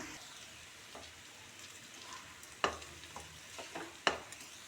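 Potatoes coated in masala are stirred in a pan for aloo palya, giving a soft, quiet sizzle with a few sharp scrapes and taps of the spoon against the pan.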